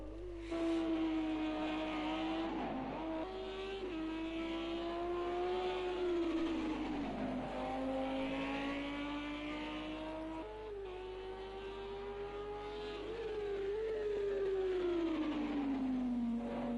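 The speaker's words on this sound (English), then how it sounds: "There you go, the 3 cars there pitting." Several GT3 race cars in a sim racing game at Spa pull into the pits, their engines droning steadily over nearly seventeen seconds with rising and falling pitch as they slow and accelerate, continuous and fairly loud with no talk.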